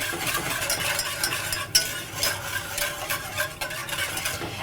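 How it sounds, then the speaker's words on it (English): Milk being whisked in a pan on the heat for an almond pudding, a steady close scraping and swishing with brief clinks of the whisk, no talking. "if you stop whisking, then sometimes the milk will catch at the bottom and burn"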